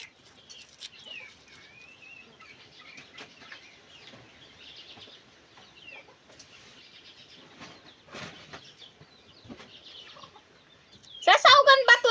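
Faint chickens cluck and call in the background of a quiet outdoor scene, ending with a brief loud burst of flapping or fluttering.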